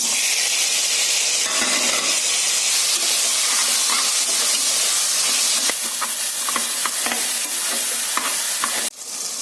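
Tomatoes sauté in hot oil for sambar, giving a loud, continuous sizzle and hiss with occasional clicks of stirring against the pan, uninterrupted by speech.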